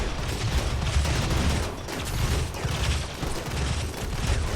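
Automated turrets in RimWorld fire continuously at mechanoids, a dense, steady clatter of rapid shots and mechanical rattling that holds at a fairly loud level throughout with no voices.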